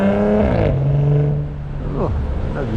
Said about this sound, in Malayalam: കുറേ ഒച്ചപ്പാടുണ്ടാക്കി വണ്ടി ഓടുന്നത്.